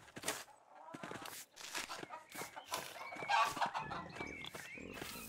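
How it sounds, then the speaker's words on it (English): Chickens clucking in the Pentiment video game, a busy stream of short clucks and squawks from several birds at close range, with no talk over them. "Lots of chickens."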